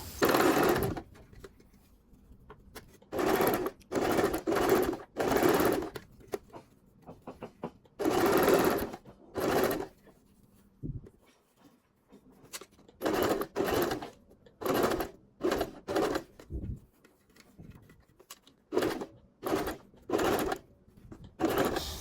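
Sewing machine stitching along an existing seam on men's trousers, running in repeated loud bursts of rapid stitching separated by short pauses, close and alone with no talk.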